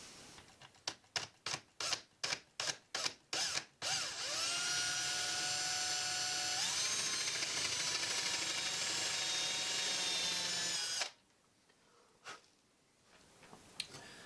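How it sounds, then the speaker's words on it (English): A power drill with a countersink bit bites into wood in short rapid bursts, then runs continuously with a rising whine before stopping abruptly, leaving quiet. "I'm going to use this countersink bit first, and then I'll use this drill bit"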